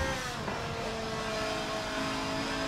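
Car engine heard from inside the cockpit in Forza Motorsport 7, a steady muffled drone with a slight rise in pitch, moderate level and continuous with no voices.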